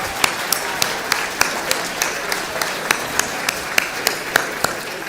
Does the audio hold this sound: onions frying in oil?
no